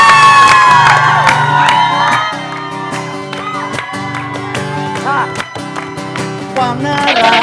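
A crowd cheers, whoops and shouts for an 80-year-old man singing and dancing on stage. The noise is loud and close, mixed with strong tonal music and some scattered clapping, and it swells again near the end.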